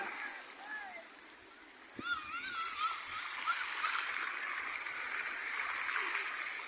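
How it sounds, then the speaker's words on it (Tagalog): A park fountain switched on: the water starts suddenly and builds into a steady, rushing splash that fills the rest of the clip, with faint voices in the background. "binuksan na yung fountain"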